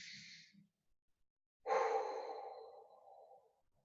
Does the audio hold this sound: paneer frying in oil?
no